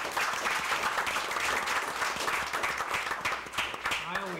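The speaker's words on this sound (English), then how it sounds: "let's give him another round of applause for that" A council meeting audience applauds Father Thompson for 50 years of service, with dense, sustained clapping that fills the room and a voice talking over it near the end.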